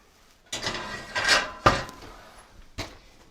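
In a home kitchen, an oven door is opened and shut, producing a few hollow metallic clunks and rattles with a sharp thump in the middle, heard close and alone.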